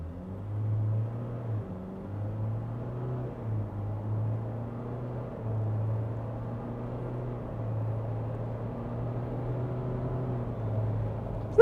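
A 2023 Ford Everest bi-turbo four-cylinder diesel accelerates hard in a 0-100 run, heard from inside as a steady low engine drone that rises through gear changes across the whole stretch, with no talk.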